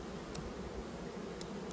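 Honey bees from an open queenless beehive hum in a low, continuous drone, steady and close, with no voices.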